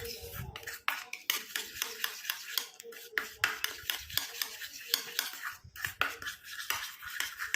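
A utensil scrapes and clinks against a bowl while powder is mixed into a liquid for a skin-whitening paste. The rapid, uneven stirring strokes continue throughout, with a voice speaking intermittently underneath.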